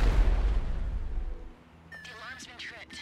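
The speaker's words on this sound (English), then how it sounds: "An explosion will tend to do that." Breaching charge explosion in GTA 5 during an FBI building heist, a loud booming blast that decays over about a second and a half before a voice speaks.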